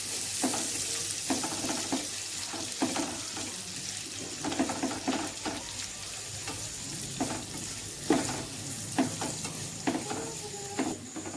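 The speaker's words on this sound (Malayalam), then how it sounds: "ഇനി ഇതേ എണ്ണയിൽ തന്നെ നമുക്ക് ഈ സവോള ഒന്ന് വഴറ്റെടുക്കാം." Onions sautéing in oil for a Kerala-style spicy chicken fry, a steady sizzle with repeated scrapes and knocks of a spoon stirring the pan, close and alone without talk.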